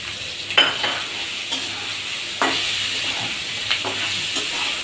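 Yellow and red capsicum frying with sauce in a pan, a continuous close sizzle broken by several sharp spatula scrapes and stirs, no voices.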